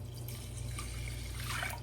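A steady stream of water runs and splashes into a pot for cooking rice, a continuous liquid pour with faint drips, fairly close and moderately quiet.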